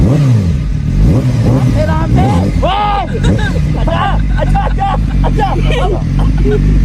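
A motorcycle engine revs in repeated rising bursts nearby while people talk over the rumble.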